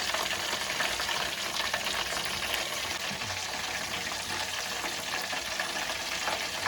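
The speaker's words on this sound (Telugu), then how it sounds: "చికెన్ ఇలా డీప్ ఫ్రై చేసుకోవాలి. లో ఫ్లేమ్లో పెట్టి చికెన్ ఈ విధంగా ఉడకనివ్వాలి." Chicken deep frying in oil over a low flame gives a steady, dense sizzling and crackling hiss that holds evenly throughout, with no talking.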